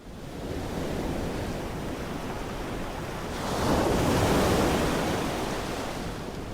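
Storm waves crash and churn against a cliff, a steady loud roar of surf and wind that swells to a heavier surge midway, with no voices.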